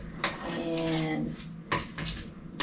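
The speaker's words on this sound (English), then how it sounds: "Then you need to add 2/3 a cup of milk. Okay. Then you mix it together." A spoon clatters and scrapes against a bowl while biscuit dumpling mix is stirred together with milk, with a few sharp knocks in a short burst; no speech.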